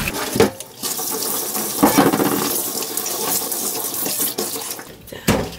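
Greasy water mixed with dish soap poured down a kitchen sink drain, a continuous close splashing gush that rises and falls over several seconds with no voices.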